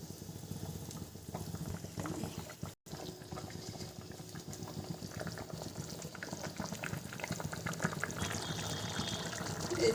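Curry gravy simmers in a pot with paneer and soybean kofta, a soft, steady bubbling and gurgling close by, quiet and continuous with one brief dropout near the start.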